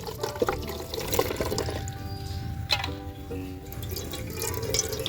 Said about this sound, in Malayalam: എടുത്തിട്ടുള്ളത് അരിക്കാനായിട്ട് ഇതിലേക്ക് നമ്മൾ ഇത് ഒഴിച്ചു കൊടുക്കുകയാണ്.